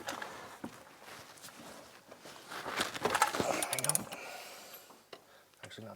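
Pry bar working rusty brake parts on a Ford F350 front hub, irregular metallic scrapes, clunks and creaks close by, peaking in a burst of grinding squeals midway.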